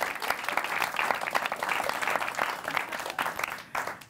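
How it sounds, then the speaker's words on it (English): Studio audience at a live comedy podcast taping in Los Angeles breaks into steady, moderately loud applause for an arriving guest, dense clapping sustained throughout and tapering slightly at the end. "Round of applause, welcome Aparna."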